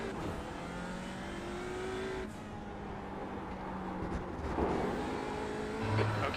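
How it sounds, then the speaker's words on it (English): Race car engines drone and rev in an IMSA race at Okayama in the iRacing game, while a faster-class car closes in from behind and the engine noise swells near the end. "there's a faster class car approaching."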